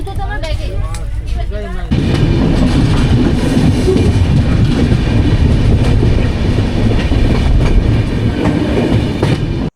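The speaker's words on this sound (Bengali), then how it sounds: "আমাদের ট্রেন 93 কিলোমিটার অতিক্রান্ত করে 5:29 এসে পৌঁছালো প্রথম হল্টিং স্টেশন বর্ধমান জংশনে" Passenger train on the Kolkata to Guwahati route running on rails near Bardhaman Junction, a loud, continuous rumble and rattling clatter from inside the train, with a voice briefly heard at the start.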